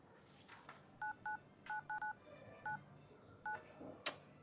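Telephone keypad tones as a number is dialed during a frantic attempt to reach a friend, about nine short even beeps in an irregular rhythm, clear and close, followed by a sharp click.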